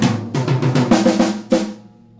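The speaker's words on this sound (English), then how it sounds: "go from the snare drum to the second tom to the first tom back to the snare drum." Acoustic drum kit played in a quick run from snare to second tom to first tom and back to snare, a close, loud cluster of rapid hits over about two seconds with no talking.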